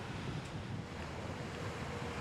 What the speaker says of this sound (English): I mean, you're right there on the ocean.